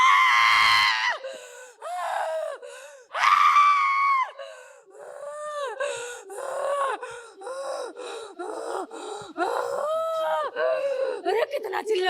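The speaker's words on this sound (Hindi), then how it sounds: "अरे कितना चिल्लाता है यार।" A man screams and gasps loudly in a live religious gathering, repeated harsh wailing cries and groans in rapid bursts that continue throughout.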